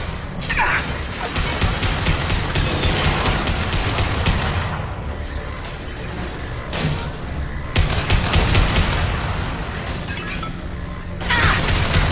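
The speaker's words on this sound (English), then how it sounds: "Automated flight weapon ready. Fire it." An automated weapon fires in the Mass Effect 2 video game, a dense, loud barrage of rapid shots and crashing impacts that continues for several seconds with brief lulls.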